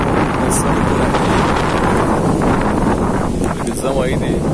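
Strong wind blows steadily across the microphone beside the ferry crossing on the Uruguay River at Itapiranga, in the far west of Santa Catarina, roaring as loud, unbroken rumbling buffeting.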